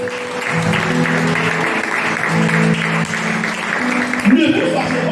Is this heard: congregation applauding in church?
yes